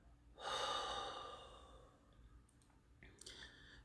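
Breathing in and out during a guided breathing exercise: a single long, soft exhale fading away, followed by quieter, lighter breaths and small clicks, close and intimate.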